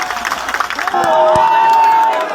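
Rally crowd at a Bharat Bachao Andolan political gathering cheering and whooping, a broad wash of many voices with a rising surge of shouts partway through, dense and sustained.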